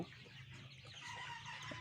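About 44-day-old Sonali chickens cluck and murmur together in a poultry shed, a steady crowded chorus, faint and somewhat distant, with a low constant hum beneath.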